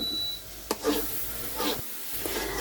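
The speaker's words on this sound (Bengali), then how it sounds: "আমি কিন্তু আচারটাকে খুব ভালো করে নেড়ে চেড়ে দিচ্ছি যাতে করে নিচ থেকে লেগে না আসে" Olive pickle is stirred in a cooking pan with a few rough scraping strokes against the pan bottom over a low background hum, with no talking.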